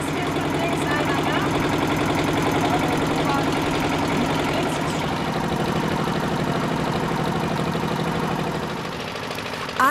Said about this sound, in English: So instead, we take a little fishing boat out to get a closer look.